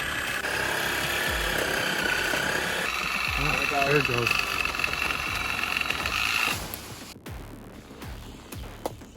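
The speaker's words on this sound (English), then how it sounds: "We're using a sawzall to get rid of it." A sawzall reciprocating saw cuts through a fallen tree blocking an offroad trail at Windrock Offroad Park in Tennessee, a steady buzzing drone that stops abruptly near the end; a person speaks briefly over it.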